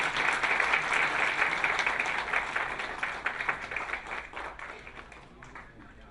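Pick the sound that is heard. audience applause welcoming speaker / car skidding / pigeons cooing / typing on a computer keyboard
audience applause welcoming speaker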